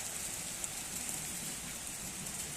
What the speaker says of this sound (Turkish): Bunlar gökyüzünden bildiğin buz yağıyor.